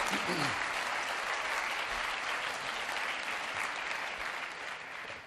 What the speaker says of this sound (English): Give him a big round of applause, will you?